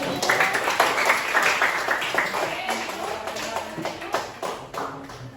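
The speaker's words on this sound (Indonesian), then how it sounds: "silakan tepuk tangan untuk kelompok 1" A classroom audience applauds a student group after their presentation, a dense wash of many hands clapping at moderate loudness with some chatter mixed in, sustained over several seconds.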